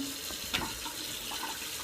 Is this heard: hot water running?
yes